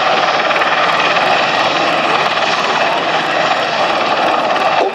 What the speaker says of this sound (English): This helicopter now lands in the area determined by the FAT Pathfinder squad